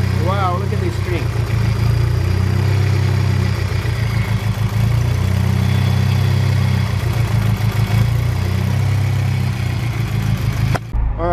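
Engine of a Mitsubishi Eclipse 2G running after a timing change, a steady mid-pitched idle with a slight rev, close and loud and continuous throughout.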